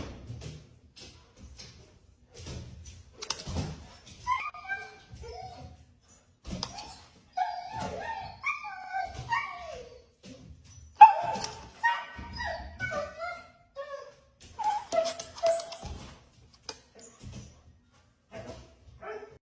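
Dog whimpering and yipping in short high-pitched bursts, with a few sharp barks scattered across the clip, fairly close and alone, no talk.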